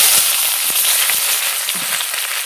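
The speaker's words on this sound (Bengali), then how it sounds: "একটু লাল লাল করে ভেজে নেব।" Eggplant strips fry in hot oil seasoned with nigella seeds, giving a loud, steady, dense sizzle with crackling pops throughout, heard alone.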